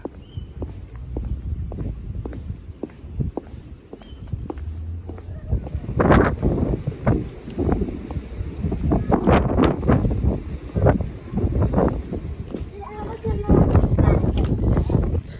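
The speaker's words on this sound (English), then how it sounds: "Oh, it's so windy." Wind blowing outdoors on a cold day, gusting roughly against the microphone in bursts, under occasional speech and footsteps.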